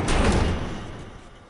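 In The Last of Us, a door is shoved shut and barricaded with a loud, close slam and heavy thud, followed by a fading rumble.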